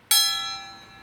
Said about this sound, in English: we're going to ring the bell over here